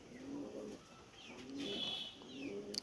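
Repeated soft cooing from a golden male Pakistani pigeon in moult, several low rolling coos in a steady rhythm, close and fairly quiet, with faint chirps above and no talking.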